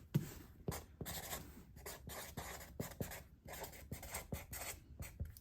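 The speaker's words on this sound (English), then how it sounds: "we're gonna take our handy dandy Sharpie and we're gonna write Breakable again" A Sharpie marker writes on the side of a package being wrapped for shipping, producing close, steady squeaky strokes in short bursts with brief lifts between letters.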